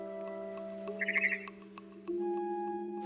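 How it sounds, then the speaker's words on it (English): A short run of bright, rapid barn swallow chirps from the game What Remains of Edith Finch, over a steady synthetic hum, with a tonal drone shifting in pitch near the end; sounds electronic, like game audio. "Then I heard chirping outside my window. It was a barn swallow going back to her nest."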